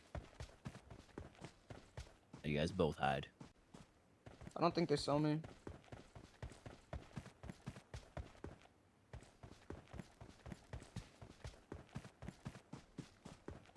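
Rhythmic clip-clop of horse hooves in PUBG Mobile during a competitive qualifier match, steady and fairly close throughout, with brief stretches of voices talking over the galloping.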